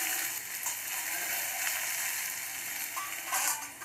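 Steady crackling sizzle of okra and onion sabzi being stirred in a pan over medium heat, with faint scraping throughout and no talk.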